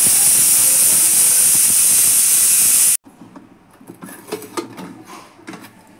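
Pressure cooker cooking desi chicken with papaya and beans, hissing steam loudly and steadily for about three seconds before cutting off abruptly, leaving faint clatter and quiet room noise.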